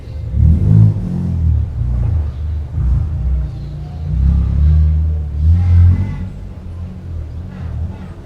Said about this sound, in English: Oh yeah, let's rev it up, rev it up. Rev up that engine.